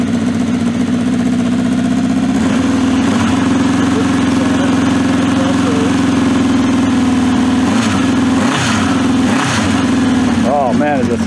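A vintage motorcycle engine idles steadily after a cold start with a low, throbbing rumble, a few revs rising and falling near the end.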